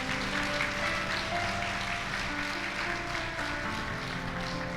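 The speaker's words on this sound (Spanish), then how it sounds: "Aplausos al Señor." Church congregation clapping in praise, a steady dense wash of applause from a crowd that holds evenly throughout with no speech.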